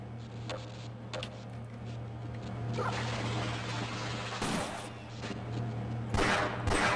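Gunfire in Half-Life: Blue Shift, scattered single shots and short bursts cracking over a steady low hum, a couple of louder blasts near the end.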